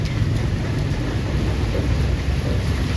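Rain falls steadily on Train Street in Hanoi, a dense, constant hiss and patter nearby with a low rumbling undertone and no talking.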